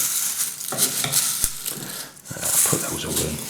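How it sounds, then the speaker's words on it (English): Cornflakes being stirred into melted chocolate in a bowl make close, dry crunching and scraping scuffs, with several spoon strokes and a brief sharp clink near the middle. "If you can, maybe stir them in a bit as we go. Just try and get everything coated nicely with the chocolate."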